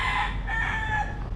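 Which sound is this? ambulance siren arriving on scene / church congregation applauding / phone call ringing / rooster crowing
rooster crowing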